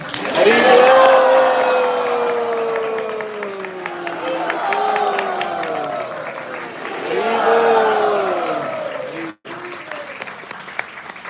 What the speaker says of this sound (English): give a really, really, really, really loud Haribol and a hand round of applause